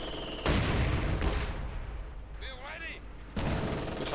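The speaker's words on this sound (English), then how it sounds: "They're in a lot of trouble with the riflemen and their Browning light machine guns." Browning light machine guns and rifles firing in a Company of Heroes 2 battle, loud dense bursts of gunfire that break off mid-clip and then return, with a voice talking during the quieter middle stretch.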